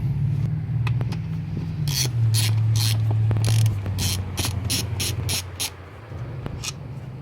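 A ratchet fitted with a 5mm Allen bit turns out the throttle body screws on a Mercedes SL320, giving bursts of quick, close metallic clicking over a low steady hum.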